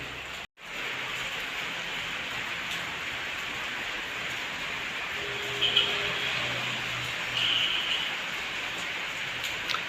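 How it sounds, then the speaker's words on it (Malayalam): Steady rain pours on a rainy afternoon, a dense continuous hiss, close and even, with a brief dropout near the start and a few faint tonal hums underneath. "ഇവിടെ നല്ല മഴ വരുന്നുണ്ടായേ."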